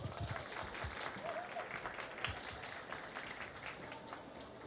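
Applause from an event audience greets a guest called to the stage, steady and dense for a few seconds. It sits at a moderate distance under a faint background murmur.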